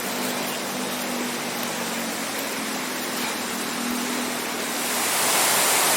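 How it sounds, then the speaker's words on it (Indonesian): A waterfall on a mountain hiking trail at Mt Lorokan roars as a dense, continuous rush of falling water, close and steady for six seconds, swelling slightly louder at the end. "kita sudah sampai di air terjun dan kita akan menikmati sejenak, yaitu sejuknya air yang mengalir disertai dengan gemuruh air yang turun bergejolak."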